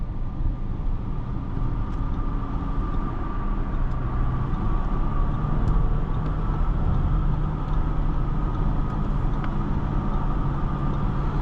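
Cabin of a 2025 Audi Q7 55 Prestige on the move, a steady low road and engine rumble with constant tire noise and a faint, even hum throughout, no one speaking.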